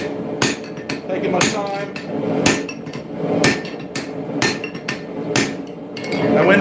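Hammer striking a railroad spike on an anvil while forging an axe, sharp ringing metallic blows in irregular pairs and clusters, loud and close, with someone speaking briefly between strikes.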